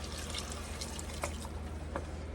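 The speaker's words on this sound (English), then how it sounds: "we're gonna start adding some water to this" Water poured steadily into a soup pot as a continuous close splashing wash, about 2 cups, with a few brighter drips and splashes breaking through the steady flow.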